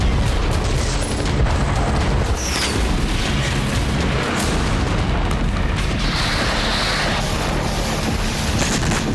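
Deep, continuous rumbling booms of explosions from an attack on the Sevastopol port, with heavy low-end pressure and wind buffeting, loud and sustained throughout, no voices.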